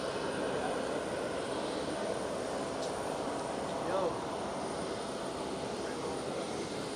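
Jet engines of an Icelandair Boeing 767 airliner pushing back at Amsterdam Schiphol airport give a steady, loud broadband roar that holds evenly throughout, with a faint tonal whine above it.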